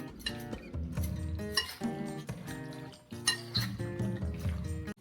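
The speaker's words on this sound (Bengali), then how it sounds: "এই যে আমি কড়াইটা উঠিয়ে দিয়েছি।" A metal kadai is set on a stove with ringing metallic clanks and clinks, a few distinct bangs in irregular bursts, close by and with no voices.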